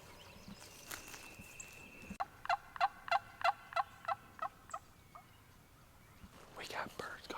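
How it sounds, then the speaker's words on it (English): Wild turkeys gobble on opening day of a North Florida hunt: a nearby bird lets out a loud, rapid rattling burst of about a dozen pulses, with faint distant gobbles, rustling footsteps and whispered voices around it. "We got birds gobbling all over the place."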